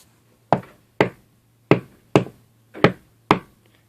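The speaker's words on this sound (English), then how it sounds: "It only makes the kids outside knock even louder." Six sharp knocks on a door, spaced unevenly about half a second apart, each a hard close thud that dies away quickly, over a faint low hum.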